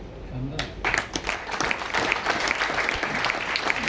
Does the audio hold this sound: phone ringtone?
no